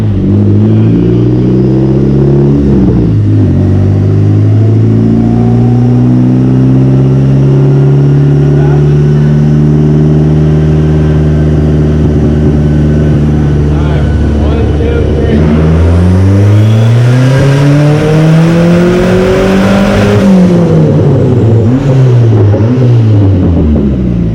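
A turbocharged car engine revs hard under load in fourth gear, a loud sustained rising drone with strong harmonics that drops briefly, then climbs again with turbo whoosh near the end.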